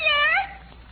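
A single short cat meow, voiced by a performer imitating the animal in an old radio comedy, rising then falling and fading within half a second, clear and close with no other sound.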